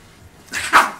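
A puppy, Yorkie or pit bull, lets out a single short, sharp bark close by after a quiet moment.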